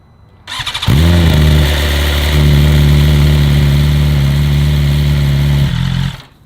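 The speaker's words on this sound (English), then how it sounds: "I'm gonna get this disconnected, we'll roll it out, make sure my bike still starts" A 2020 BMW S1000RR sport bike with a BT Moto stage 1 ECU flash starts after a short crank, then settles into a loud, steady close-up idle with a small rise in revs before shutting off.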